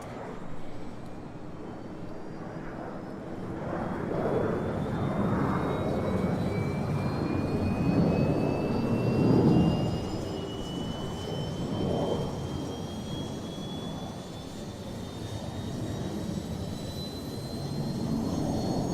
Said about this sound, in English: We'll go ahead and hit the start APU, come outside, and we'll listen to this spool up.